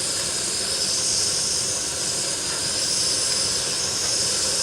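Kovea Supalite titanium camping stove burning at full flame, a steady close roaring hiss that holds constant throughout with no talking.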